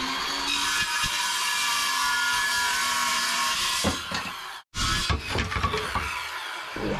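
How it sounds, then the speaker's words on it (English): A saw cuts through a wooden piece during the renovation of an old rotting boat, a steady, fairly loud grinding rasp for several seconds that briefly stops, then resumes in rougher, broken bursts. "cut it out with the saw for me"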